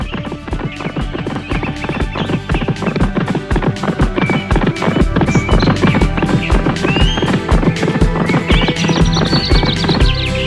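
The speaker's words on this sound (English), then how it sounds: "Now the horse took off as fast as he could." Rapid, rhythmic hoofbeats of a galloping horse, loud and close, continuing steadily throughout, with a horse whinnying near the end.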